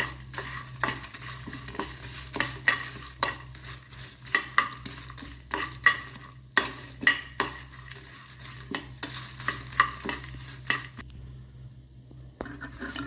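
Dry red chillies with garlic, ginger and masala being dry-roasted in a pan for Mangalore prawn sukka, with repeated scraping and stirring clatter of a spoon against metal and a faint sizzle, close and fairly quiet.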